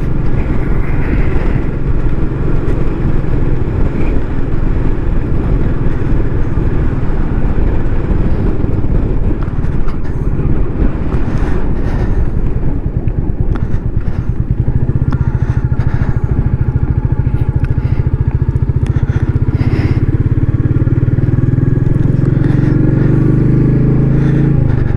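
A Royal Enfield Meteor motorcycle riding along on a road, its engine droning steadily and loudly throughout with a deeper, heavier rumble building in the second half.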